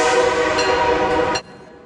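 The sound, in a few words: train starting to move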